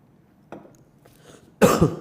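A single sharp cough bursts out close and loud near the end, preceded by a fainter throat sound, in an otherwise quiet room.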